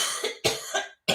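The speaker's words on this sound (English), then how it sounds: "Had to have a cough." Two or three harsh coughs in quick succession, close and loud, with brief silent gaps between bursts and no talking.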